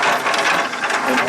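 A reassembled, ungreased gear mechanism with a bad high gear runs noisily in high gear, giving a steady dense grinding clatter at close range with no pauses.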